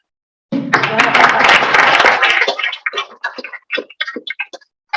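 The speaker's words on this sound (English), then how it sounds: "no need for applause." A crowd bursts into loud, sustained applause for a couple of seconds, then it thins into scattered individual claps before fading out.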